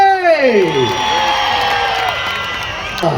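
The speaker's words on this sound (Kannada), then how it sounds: "ಮತ್ತೊಂದ್ಸರಿ ಧ್ರುವ ಸರ್ಜಾಗೆ ಚಪ್ಪಾಳೆ" A crowd at the Anegondi Utsav festival cheers and whoops for actor Dhruva Sarja with rising and falling shouts over a loud, sustained wash of applause and crowd noise.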